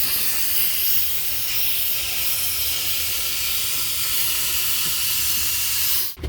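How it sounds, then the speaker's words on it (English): Continuous loud hiss of a steam cleaner working over the interior of an abandoned DeLorean, a steady close jet of steam with no pauses, cutting off abruptly at the end; no talking. "We're gonna steam away as well, kill as many germs as possible."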